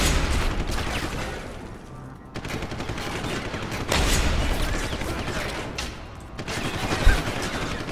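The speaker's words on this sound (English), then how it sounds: "There's two shots from a shotgun to kill him." Shotgun blasts in Deus Ex: Human Revolution Director's Cut, with a run of loud, booming gunshots at uneven intervals over a noisy game background and one sharper hit near the end.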